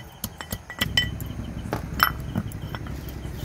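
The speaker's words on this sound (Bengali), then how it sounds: "বিভিন্ন রকম বিস্কুট এই হামানদিস থেকে গুঁড়ো করে নিচ্ছি।" Biscuits pounded to crumbs in a small metal mortar and pestle, a quick run of sharp clinking strikes near the start that gives way to steadier, lighter grinding taps and a few metallic rings.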